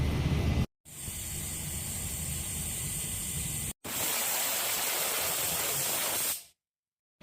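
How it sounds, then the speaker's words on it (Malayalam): Loud, steady hiss of steam rushing out of a pressure cooker of mutton curry in a continuous jet, broken by two brief cutoffs before it stops abruptly. "അപ്പോൾ കുക്കറിൻ്റെ വിസിലൊക്കെ ആയിക്കഴിഞ്ഞു ഇനിയിപ്പോൾ ഇത് കുറച്ച് സ്റ്റീം പോകാൻ വേണ്ടിയിട്ട് നമുക്ക് സൈഡാക്കാം"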